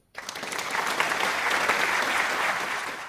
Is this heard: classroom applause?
yes